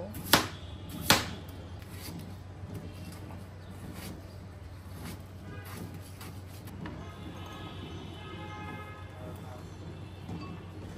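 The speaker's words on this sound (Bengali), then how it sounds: "ছাদের শাকগুলো কুচি করে নিব, সাথে একটা আলু দিব।" Rooftop-grown leafy greens chopped with a knife for cooking: two sharp, distinct chops at the start, then quieter, lighter cutting ticks over a low steady hum.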